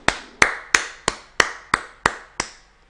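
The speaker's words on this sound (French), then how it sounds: "est-ce que je dois l'applaudir?" Eight sharp, close hand claps come at an even, slow pace, each ringing briefly before the next, then trail off into silence.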